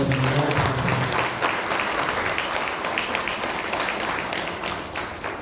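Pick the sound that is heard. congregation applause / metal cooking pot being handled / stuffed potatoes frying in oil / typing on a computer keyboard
congregation applause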